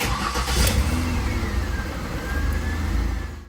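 Ford Escape engine starting during a brake booster check, cranking and catching into a steady close idle rumble that fades slightly at the end, with no talking.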